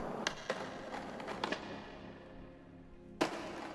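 A firecracker skateboard trick in a Skate video game clatters down stairs in a quick series of board taps and thuds, with a final sharp clack, fairly quiet.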